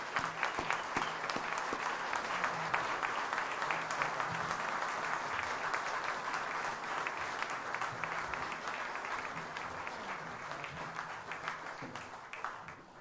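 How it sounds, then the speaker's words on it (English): Warm, sustained applause from the audience at the 2021 North Dakota Cowboy Hall of Fame induction ceremony, a dense wash of clapping that holds steady and slowly tapers over about thirteen seconds, with no one speaking. "Can I get a round of applause for Levi and the Wistis family?"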